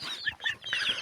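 Chickens let out into a garden cluck in a quick run of short, close calls, several birds overlapping with no talking.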